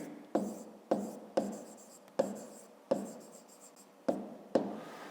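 Pen writing on paper in a 5th-grade maths exercise, a series of seven or eight distinct scratchy strokes at an irregular rhythm, close and fairly quiet with no talk.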